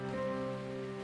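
Rain falls as a sound effect in an English-dubbed audio drama scene, a steady soft patter running under a sustained tonal music bed, with no voices.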